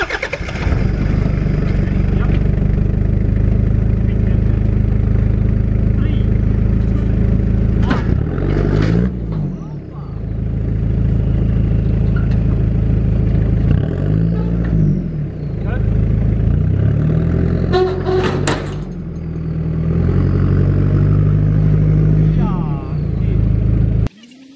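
Ute with its tray removed labors through a U-turn in a boggy backyard, the engine droning loudly and close with repeated revving surges as the wheels struggle, while people talk over it.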